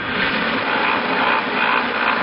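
A belt sander used for knife sharpening runs in a steady, loud, close whir with a coarse grinding hiss, unbroken and without voices.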